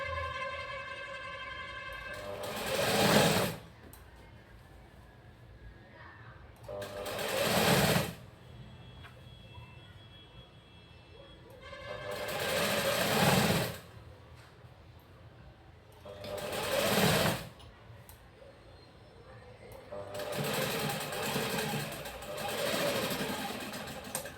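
An electric sewing machine stitching a blouse runs in five separate short bursts of rapid whirring, each lasting a second or two, separated by quieter pauses with faint background noise.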